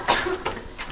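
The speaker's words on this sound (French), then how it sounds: "vous n'êtes pas obligée de tousser ainsi à chaque réplique" Several sharp coughs from a woman at a casting audition, close and loud, coming in quick separate bursts with short gaps between them.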